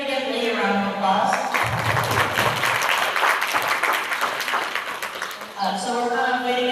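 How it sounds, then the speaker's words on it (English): An audience gives a round of applause at a Tennessee Walking Horse youth event, clapping that swells and stays dense for several seconds before fading, with voices talking over it at the start and end. "Everybody give Leigh a round of applause."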